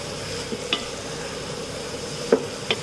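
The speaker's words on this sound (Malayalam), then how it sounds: "നന്നായിട്ടൊന്ന് ഇളക്കി കൊടുക്കണം." A spoon stirs fried charcoal-smoked chicken into thick biryani masala in a pan, giving a soft sizzle with a few quick scraping strokes close by.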